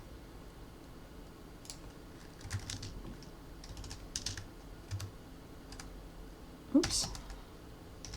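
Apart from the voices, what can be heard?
typing on a computer keyboard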